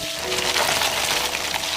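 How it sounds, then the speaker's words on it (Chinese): Crayfish frying in hot oil with scallion pieces, ginger slices and hot pot base, giving a steady, close, dense sizzle that continues evenly without pause. "油温6成热，不用太久，主要是让龙虾的肉质变得紧实。"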